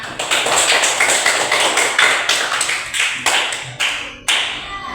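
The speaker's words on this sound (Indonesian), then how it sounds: "terima kasih Ananda Putri, tepuk tangan." Students in a classroom clap for a classmate after a presentation, a loud, close patter of hand claps that thins into a few separate, uneven claps near the end, with no talking.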